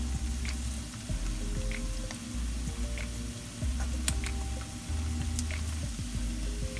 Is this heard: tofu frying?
yes